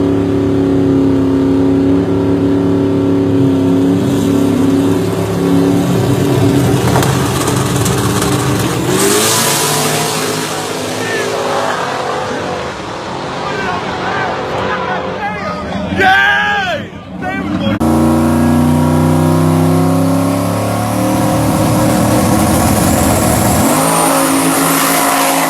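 Loud racing engine of a stock-block, small-turbo race car roars and accelerates, pitch climbing through gears, with crowd chatter and shouting mixed in throughout.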